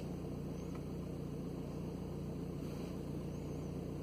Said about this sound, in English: Ignition on, engine running.